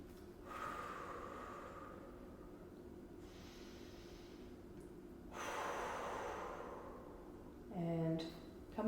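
Slow, deep breaths from someone holding a stretch during a full-body stretching session, soft and close, with long audible inhales and exhales in a quiet room.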